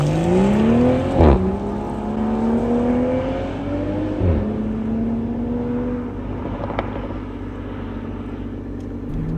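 A 2021 Toyota GR Supra pulls away on a public road, its engine note climbing through revs with a clear gear change, then settling into a steady, moderately loud cruising drone heard from inside the car.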